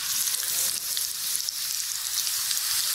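Sliced onion sautéing in hot oil for fish biryani gives off a loud, steady, hissing sizzle that carries on without a break and without voices.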